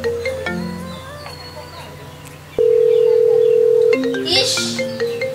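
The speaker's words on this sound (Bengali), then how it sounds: "তোমার ফোন বাজছে" A mobile phone rings with electronic tones, including a steady sustained beep partway through. Background noise and a short swell of rustling sound accompany it.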